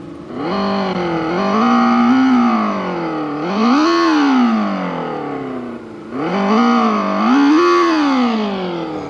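A 2020 United T1800 electric motorcycle plays an artificial engine sound as it revs, loud synthetic tones that rise and fall in three swelling sweeps from idle, with no talk over them.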